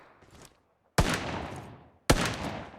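Two sharp bursts of video game gunfire about a second apart, each a loud crack followed by a decaying rattle, with a quieter stretch of shots before them; no talking.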